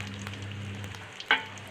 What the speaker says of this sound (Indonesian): Pagi ini kita mau goreng ikan asin ya buat pelengkap.